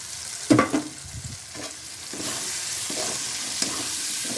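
Fried meat and egg being tossed into chicken chow mein in a pan and stirred, with a few loud scraping clatters early on, then quieter stirring over a soft sizzle.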